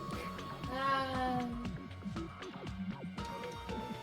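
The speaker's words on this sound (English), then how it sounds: "You're calling the cat Junko?" Indoors, a cat gives one drawn-out meow, followed by a few shorter quiet mews and light clicking sounds nearby.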